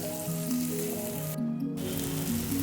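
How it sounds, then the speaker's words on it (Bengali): Onions and green chillies fry in a pan while being stirred, a steady sizzle running throughout with tonal background music layered over it and a brief dip in the hiss partway through. "আবার এটাকে নাড়তে থাকবো, মেশাতে থাকবো।"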